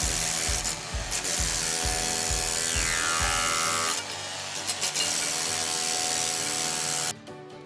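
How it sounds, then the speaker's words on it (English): A demo tool with a chisel bit chatters loudly against ceramic tile set on cement, a dense rattling hammer with brief pauses, close up and continuous until it cuts off near the end. "Use a demo tool and a chisel bit and hold it at an angle and slide it under the tile."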